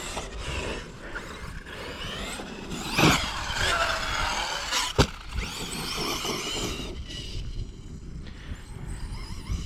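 An electric Arrma RC car whines up to full throttle, with rising and falling motor pitch sweeps and a sharp knock near the middle, heard close and fairly loud outdoors.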